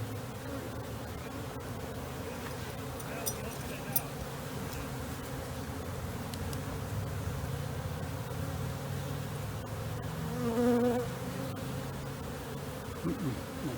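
Honey bees buzz around an open hive, a steady dense drone that stays close and even throughout, with a few brief louder passes of individual bees.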